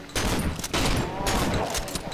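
Rapid gunfire in the horror video game Cry of Fear, a quick burst of loud repeated shots over about two seconds.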